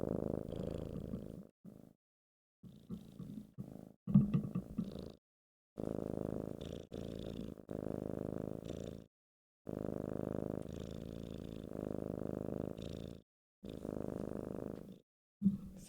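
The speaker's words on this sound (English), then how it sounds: "You guys want to hear him purr?" A pet cat named Schmicky purrs close up in steady rhythmic bursts, each low rumbling stretch separated by short silent pauses as he breathes in and out.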